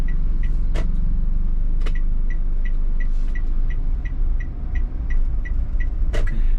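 Night traffic jam outside BCS Mall in Batam, a steady rumble of idling and creeping vehicles nearby, with a regular series of short high beeps and a few sharp clunks, no talk.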